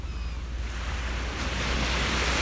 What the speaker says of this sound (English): The waves are a little louder today.